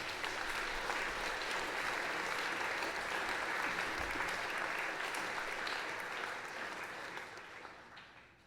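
A school assembly audience applauds a staff member's wedding anniversary with sustained, dense clapping from many hands that holds steady for several seconds before fading out near the end.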